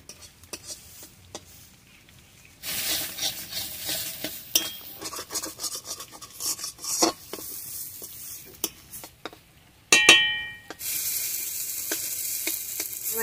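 Ground garam masala paste sizzling in hot oil in a pan with a little turmeric, broken by scraping stirs of a metal spoon against the pan and a sudden louder burst of frying partway through.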